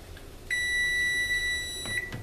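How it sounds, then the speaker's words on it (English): An oven timer sounds one sustained electronic beep lasting about a second and a half, clear and steady in a quiet kitchen, followed by a couple of faint knocks. "it's my oven timer"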